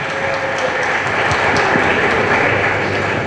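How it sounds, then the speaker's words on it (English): A conference room audience breaks into a short burst of applause, an even wash of many hands clapping at moderate distance, steady for a few seconds with no talk over it. "Let's clap for him."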